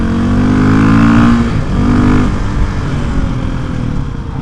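A dirt bike engine revs hard while riding, loud and close, with strong harmonic rises and falls of throttle through the whole stretch and no talking.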